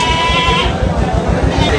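Goats bleat amid a noisy crowd at a rainy livestock market in Taherpur bazaar, with voices talking and a constant low murmur of people nearby.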